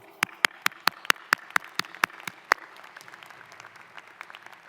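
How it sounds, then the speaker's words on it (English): A few people clap slowly at a law school diploma ceremony, sparse, distinct claps that thin out into scattered, fainter claps, with no cheering. "And for that, I and we applaud you."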